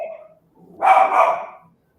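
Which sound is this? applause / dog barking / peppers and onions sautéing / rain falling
dog barking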